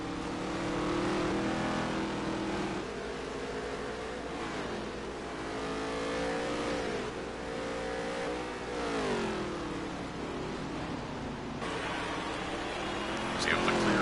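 Race cars in NASCAR Heat 3 battling three-wide for position, engines droning and rising and falling in pitch as they rev and shift, loud and continuous under a commentator's voice.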